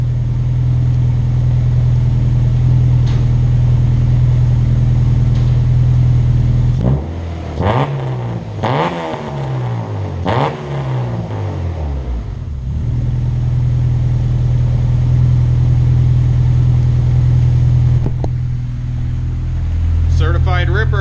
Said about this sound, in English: So I'm going to give you guys a quick rev.